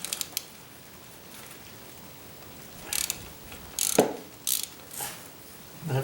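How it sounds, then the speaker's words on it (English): A ratchet with a 10mm socket loosens the bolt on a car distributor in short bursts of fast clicking, several separate clicky runs with quiet pauses between them, close and fairly loud. "That's what it takes to unbolt the distributor."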